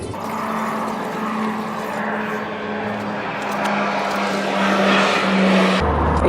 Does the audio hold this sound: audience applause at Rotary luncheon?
no